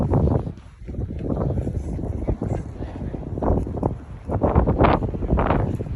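Cold wind gusting outdoors in Skagway, Alaska, with a mountain nearby, rumbling steadily into the microphone in uneven surges for the whole stretch.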